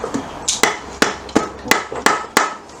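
A hammer strikes a Kawasaki GPz motorcycle engine to crack the gasket loose. Seven sharp metallic blows land close by in a fairly steady rhythm, about one every third of a second, each ringing briefly before the next.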